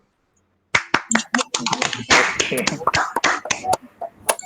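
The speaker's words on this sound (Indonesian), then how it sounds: "Tepuk tangan nih buat Ryan Mukadis" Classroom applause for a student, a burst of scattered, uneven clapping from a group, with voices talking over it.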